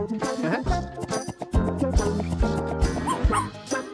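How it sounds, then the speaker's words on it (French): Puppy yipping and barking in short high bursts, several quick excited barks and whimpers close by, with a faint jingle and some background voices. "Regarde, un bébé chien."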